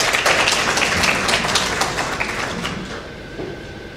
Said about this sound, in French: que je demande d'applaudir très fortement